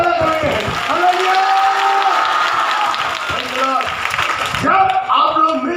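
A church congregation claps and shouts hallelujah together, with loud, dense applause mixed with crowd voices and cheering, rising in waves.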